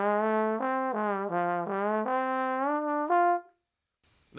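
A trombone plays one continuous legato line with no tonguing, its notes sliding and smearing into one another in a smooth gliss-like run before it stops, followed by a brief rustle.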